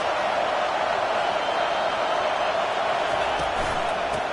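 College football stadium crowd roaring steadily throughout, a dense, continuous wall of cheering and noise aimed at the opposing offense, with no clear breaks.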